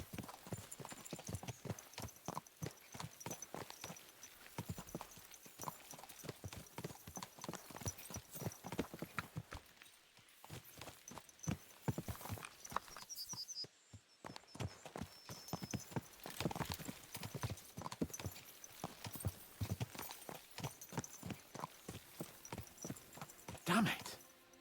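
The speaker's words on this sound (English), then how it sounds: "Let's really spur these horses on, eh?" Horses gallop in the medieval role-playing game Kingdom Come Deliverance II. Hooves clip-clop in a fast, steady rhythm throughout, close and loud, with a short lull midway and a brief whinny near the start.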